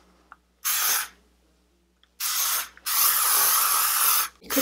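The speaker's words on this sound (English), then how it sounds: "I basically just spray it around the bottom just so all the curls kind of hold on the bottom." Volumizing hairspray is sprayed around the bottom of short, curly, frizzy hair in three close aerosol hisses: a short burst first, then two longer sprays run almost together.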